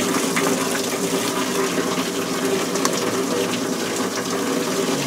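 Water rushes steadily through a Model A car radiator during a flow test, a constant loud gushing flow with no break throughout.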